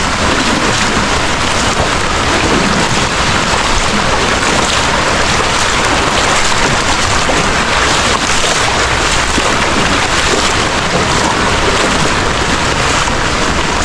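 A strong current of flood water rushes through a canal, a dense continuous hiss and roar that holds steady at close range with no voices.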